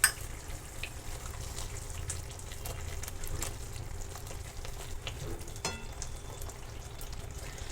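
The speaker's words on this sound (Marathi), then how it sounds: "आता मी ह्याच्यामध्ये जो पनीर मसाला आहे तो तेलामध्ये आपण व्यवस्थित भाजून घेणार आहोत" Paneer masala roasting in hot oil while making creamy shahi palak paneer, giving a steady low sizzle and crackle throughout with a few faint clinks and scrapes, no voices.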